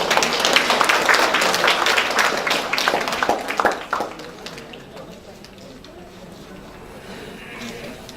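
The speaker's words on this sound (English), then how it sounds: "let's give Professor Mulyana a big round of applause once again" An audience at an academic conference plenary session gives a round of applause, with loud clapping for about four seconds that then fades into quiet room tone.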